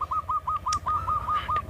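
A perkutut zebra dove calls from close by with a series of rapid, evenly spaced rolling coos. The notes repeat in a steady rhythm with short gaps between them, and a few sharper chirps sound in the background.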